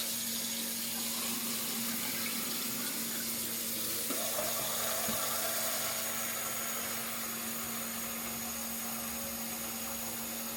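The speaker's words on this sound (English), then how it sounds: "So now we're filling it up with hot water." Hot water pours steadily into a container for cleaning de-primed .223 and 9mm brass, a constant rushing hiss that runs nearly unchanged throughout, fairly close, with no voices.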